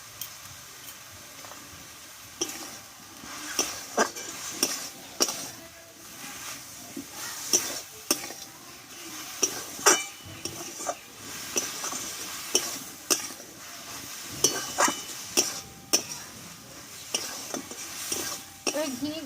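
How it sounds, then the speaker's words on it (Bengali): Spoon scraping and stirring cabbage curry with garam masala in a pan, a steady run of close, sharp clinks and scrapes over a faint sizzle, with no talking. "গরম মশলাটা দিয়ে একটু নাড়াচাড়া করে নিয়েছি"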